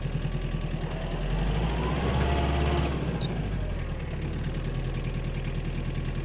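A Mitsubishi MT-265 Japanese mini tractor's engine runs with a steady mechanical chugging, its tone shifting briefly around a gear change as it moves up through the higher gears.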